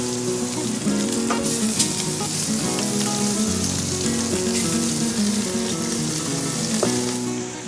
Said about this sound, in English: And I'm going to lay them seasoned side down in this hot pan.